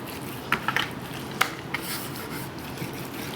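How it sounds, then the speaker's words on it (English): Seasoning is rubbed by hand into the bony back of a rack of ribs, giving soft scraping rubs with a few sharp, brief contact clicks, close and quiet with no talking. "Get it rubbed in."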